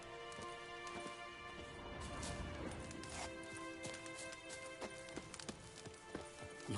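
Roach the horse's hooves clip-clop steadily in The Witcher 3, a continuous run of trotting footfalls mixed with game ambience and music at moderate level.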